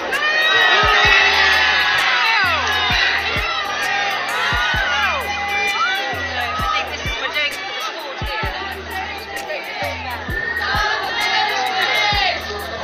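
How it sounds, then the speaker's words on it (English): A large outdoor crowd in York boos and shouts at a royal visit, a loud, dense mass of jeering voices with chatter and overlapping cries throughout. "the boos you can hear in the crowd"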